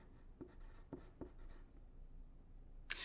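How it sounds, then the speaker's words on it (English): A pen scratches out a few quick, faint strokes on a paper prefix activity sheet in a quiet room, followed by a brief sharp tap at the end. "I'll write that on the next line after the equal sign."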